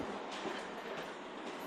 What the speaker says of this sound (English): now we are taking the train again